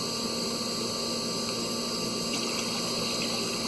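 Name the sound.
water flushing through Pontiac Grand Prix heater core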